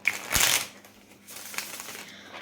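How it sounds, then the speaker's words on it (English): A tarot card deck is shuffled vigorously at close range: one long rustling flurry, then quieter scattered riffles, with no voices. "I'm shuffling the living heck out of this deck."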